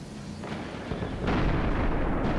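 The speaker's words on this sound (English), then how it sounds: "Those exploded, but the things I passed didn't explode." Loud in-game explosions from the shooter Destiny boom in quick succession, heavy, close and rumbling, with a second, larger blast swelling partway through and no talking.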